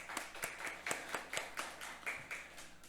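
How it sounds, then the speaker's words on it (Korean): A congregation at a Korean Sunday morning church service, a Liberation Day thanksgiving worship, claps together. About a dozen distinct, evenly spaced claps fall in a steady rhythm, fairly soft and slightly distant, with no talking over them. "우리 함께 주님께 영광의 박수 올려드리도록 하겠습니다"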